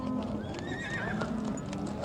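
At a horse market in Nookat, horses whinny loudly and close while hooves clip-clop beneath, amid a busy outdoor crowd murmur.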